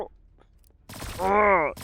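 A gun fires in a Roblox zombie survival game, Undead Mayhem: a few faint pops, then a louder burst with a sustained tonal ringing or groaning tail, cut off abruptly.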